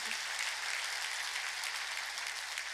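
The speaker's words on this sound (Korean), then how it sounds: "빨리 박수를 하나님께 해야." A church congregation clapping during a sermon, a steady, even patter of many hands heard at a distance, fairly faint and unbroken.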